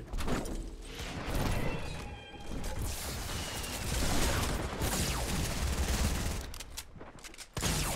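Bursts of rapid gunfire from an enemy duo in the Fortnite battle royale game, loud and repeated in dense volleys with brief gaps, near and harsh.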